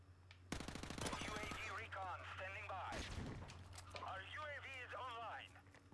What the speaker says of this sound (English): Gunshots over there, but I don't know what's going on.